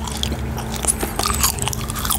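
Hubba Bubba bubble gum chewed close to the microphone in an ASMR setting, with steady wet smacking and crunchy bites over about two seconds and no talking.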